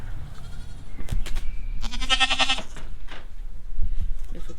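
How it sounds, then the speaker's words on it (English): A distressed mother goat on a farm in freezing weather bleats loudly and close, one long wavering call among rustling and other farm noise. "Upset mama goat."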